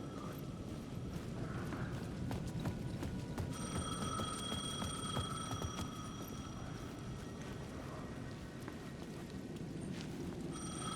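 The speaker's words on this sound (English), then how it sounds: "The payphone at the edge of the plaza was ringing again." Payphone in the video game Alan Wake 2 rings in a series of steady electronic bell bursts over a dense ambient game soundscape, with no talking.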